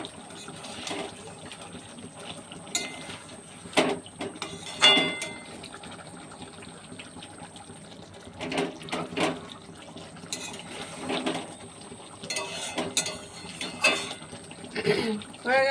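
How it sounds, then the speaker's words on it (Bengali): Cold tap water runs in a kitchen sink as something is rinsed, a soft intermittent splashing and trickling with bursts of louder gushing over a quiet background. "দিয়ে জল দিয়ে ধুয়ে নিবি, ঠান্ডা জল দিয়ে।"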